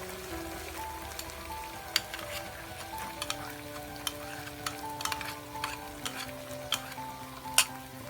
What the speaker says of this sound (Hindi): अच्छी तरह से मिक्स करेंगे क्रीम को हलवे के अंदर।